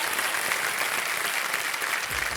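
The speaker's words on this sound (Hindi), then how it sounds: "एक बार फिर जोरदार तालियां" Studio audience of the KBC game show breaking into applause, a thick, sustained wall of clapping at steady loudness, with a faint voice starting to come in near the end.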